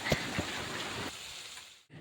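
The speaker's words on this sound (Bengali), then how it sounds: "আবার দেখো কি মেঘ করে এসছে, এখন আবার বৃষ্টি নামছে" Rain pours down steadily as clouds return after a short lull, a dense, even wash of patter close by with a few sharper drops early on, no voices.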